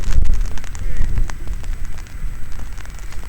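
Drizzle at an outdoor winter cricket match in Jammu picks up pace, giving a steady patter and hiss over a heavy low rumble, loud and continuous throughout.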